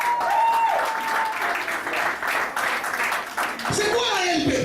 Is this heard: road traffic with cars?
no